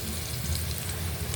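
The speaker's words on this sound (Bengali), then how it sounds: "পেঁয়াজ মরিচ ভাজা হয়ে গেছে তেলে" Chopped onion and green chilli fry in hot oil in a kadai with whole cumin and minced garlic, giving a dense, even, continuous sizzle close up with no talk.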